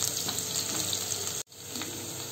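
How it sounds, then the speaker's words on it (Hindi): Chopped onions sauté in oil in a pan for a chana chaat, giving a continuous close sizzle with a brief break partway through. "अपनी प्याज को चला लेंगे 2 मिनट के लिए, फिर हल्का सा सॉटे करेंगे, गुलाबी कलर आने देंगे बस।"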